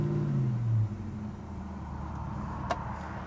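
A 1972 Oldsmobile 442 V8 engine, loud and close, rises in a short rev from idle, then drops back to a steady low idle with one brief click near the end.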